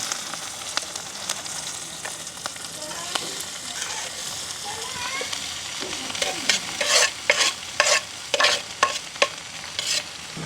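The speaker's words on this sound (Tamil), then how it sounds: "நல்ல வடிவாக கலந்து விடுவோம்" A drumstick and egg mixture is stirred in a frying pan. It sizzles quietly throughout under repeated scraping strokes of a spoon, which grow more rhythmic and pronounced toward the end. No voices.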